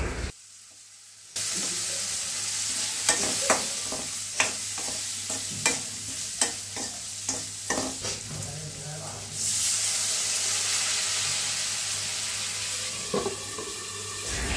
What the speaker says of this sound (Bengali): আলুটাই প্রথমে একটুখানি দিয়ে ভেজে, মানে একটু কষিয়ে সিদ্ধ করে নিলাম।